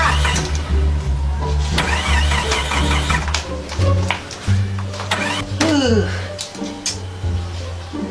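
A car engine cranks and tries to start under a steady rumble, with a few voices talking nearby.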